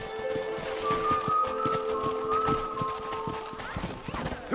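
Horse hooves clip-clop steadily on a dirt path in the Western video game Red Dead Redemption, with a neigh or whinny and game music mixed in throughout.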